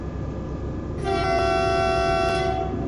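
A loud, sustained train horn blares for about two seconds in the train simulator game TWS, from a Taurus locomotive, a steady multi-tone blast over a constant low rumble.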